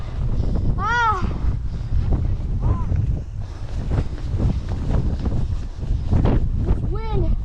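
Steady wind at a boat race buffets the microphone with a loud, constant roar. Brief shouted voices break through now and then.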